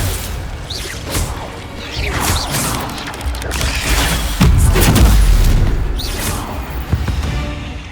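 An Incendio fire spell goes off in the Hogwarts Legacy video game, a loud whooshing burst with a deep boom amid dense mechanical and magical game effects, with no talking.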